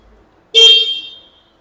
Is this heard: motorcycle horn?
yes